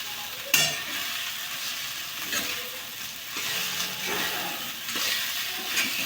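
A spoon stirring kande pohe in a hot pan, soft scraping and rustling over a continuous oily sizzle, close and fairly loud, with a sharp clink near the start and gentle repeated strokes throughout.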